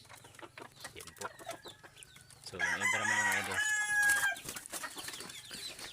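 Labuyo hens cluck and squawk close by, rising into a loud burst of agitated clucking, while someone speaks briefly at the start.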